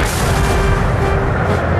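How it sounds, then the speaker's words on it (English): Powerful cannon fire booms in a Napoleonic battlefield barrage near Waterloo, with loud, heavy, continuous rumbling blasts that fill the whole moment. "Napoleon ordered a barrage of his most powerful cannon."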